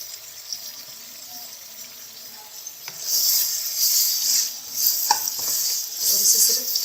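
Brinjal (baingan) sabzi sizzles in a pan on low heat while a spoon stirs it, producing a soft steady fry with louder scraping bursts and a few clinks against the pan in the second half.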